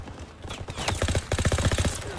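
Rapid gunfire in a World War 2 video game beach assault, a dense rattling burst of close, punchy shots fired in quick succession with brief gaps between strings.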